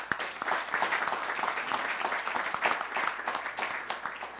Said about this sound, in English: Give the Public Works Department a round of applause.